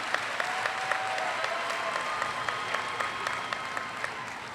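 Applause from the crowd at a 2019 high school graduation ceremony, dense and sustained clapping at an even level throughout, with occasional sharper individual claps standing out.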